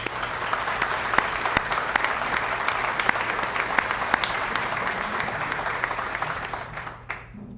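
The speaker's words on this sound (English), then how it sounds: "Let's give them a round of applause." Sustained applause from an audience at a community event on new immigrants in Kent County, steady and moderately loud with sharp individual claps standing out, then tapering off abruptly near the end.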